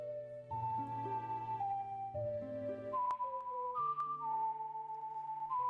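A melody from the Ocarina of Time video game is whistled as a clear, steady melody over a soft synthesized backing of sustained chords, with no talking.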